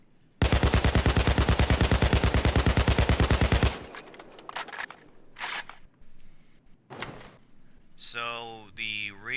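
A Payday 2 AKM (AK.762) assault rifle fires a loud, rapid full-auto burst of about three seconds with evenly spaced shots. Scattered clicks and brief bursts follow, then a short closing sound.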